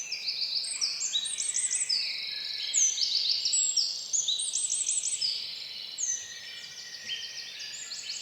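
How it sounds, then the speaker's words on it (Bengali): Birds calling and chirping in the green hills of Meghla, Bandarban, a dense chorus of high, repeated trills and whistles that runs steadily throughout, fairly close, with no talk. "পাখির ডাক আর ঠান্ডা বাতাস"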